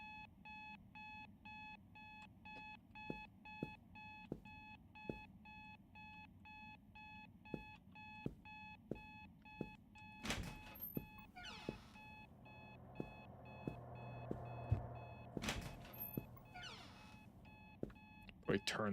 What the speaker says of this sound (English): Very loud alarm, you know.